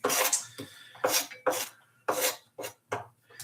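Sliced onion is scraped and dumped into a pan in a series of short, rough, rasping bursts separated by brief pauses, fairly close and with no talking.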